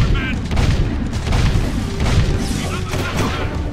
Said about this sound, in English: You can't dodge the bullets!